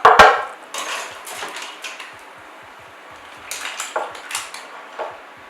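Mussels clatter into serving bowls, with a loud clink of shells on dishware up front and then a run of light, scattered shell-and-utensil taps and scrapes at close range.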